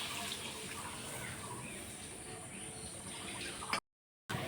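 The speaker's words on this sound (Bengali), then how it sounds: "এবার আমি আরেকটু জল দিয়ে দেবো" Water poured into a pot of fish curry in a village kitchen, a faint steady splashing stream that runs for a few seconds and then stops.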